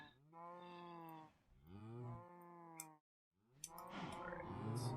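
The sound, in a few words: cows mooing in Minecraft video game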